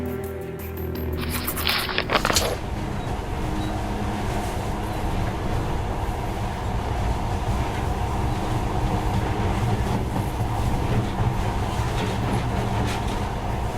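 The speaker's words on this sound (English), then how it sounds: "In the past, trains were ordinary things, but now, this monorail seems magic, doesn't it?" Monorail train running in the video game Metro Last Light Redux, a loud continuous rumbling ride with rattling clatter throughout, opening with a short mechanical burst before settling into a steady rolling drone.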